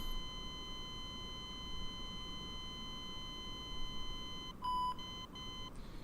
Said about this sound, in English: The beeps.